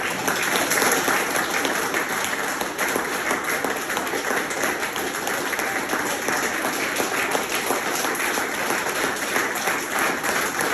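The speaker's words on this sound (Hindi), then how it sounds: "चलिए अपने लिए ताली बजा दीजिए।" A seminar audience at a stress-free life coaching session claps steadily and densely for about eleven seconds, a continuous wash of many hands applauding with no talk over it.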